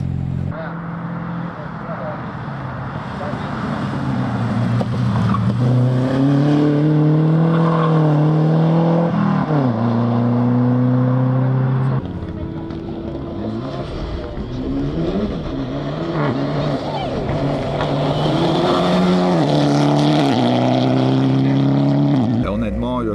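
Rally cars at the 2025 Hannut rally in Belgium, engines revving and rising in pitch through repeated acceleration runs, loud and near, with a person speaking over the noise.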